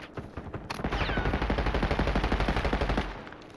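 A PPSh submachine gun fires in a video game as one rapid, continuous automatic burst of close, loud shots lasting a few seconds.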